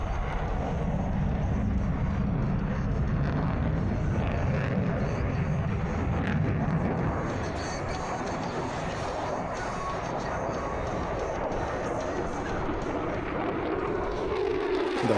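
An F-16 Viper fighter jet flies during an air show demo, its broad engine roar rumbling continuously and fairly distant, swelling and easing slightly over the stretch with no talk.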